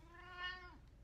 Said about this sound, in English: that's my cat Aura